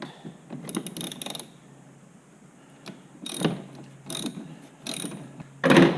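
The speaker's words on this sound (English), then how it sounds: "Just tighten that down with a ratchet, and it is a number 13 millimeter" Ratchet with a 13 mm socket tightening a bolt on a Jeep Grand Cherokee headlight assembly, several short bursts of clicking separated by pauses, close and moderately loud, with no talk.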